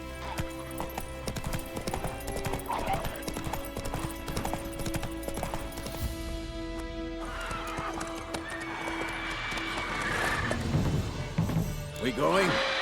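Geralt's horse Roach in The Witcher 3 clops along with rhythmic hoofbeats and a whinny, under game dialogue and background shouting.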